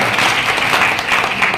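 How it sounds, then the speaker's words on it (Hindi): Audience applause from a crowd of men and women seated at a community gathering, a loud, dense, continuous burst of clapping filling the short stretch without letup. "इसके लिए एक बार जोरदार ताली होना चाहिए।"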